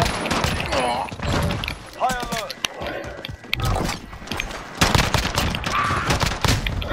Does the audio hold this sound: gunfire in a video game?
yes